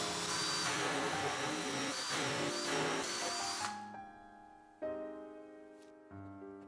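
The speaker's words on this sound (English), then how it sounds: "I then used a 1 1/4 inch hole saw to cut a small hole through it." A 1 1/4 inch hole saw cuts through a clamped scrap of plywood, loud and continuous grinding for about three and a half seconds, then spinning down and ringing with a few faint metallic knocks.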